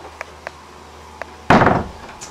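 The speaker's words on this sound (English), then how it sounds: "That is a door that goes into the engine room" An engine room door aboard a boat is opened or closed once with a loud, close thud and rattle, preceded by a few soft ticks and followed by a quieter click.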